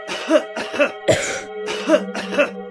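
Several short, harsh coughs come in quick bursts, about five in a row with brief pauses between, close and fairly loud over a faint steady hum.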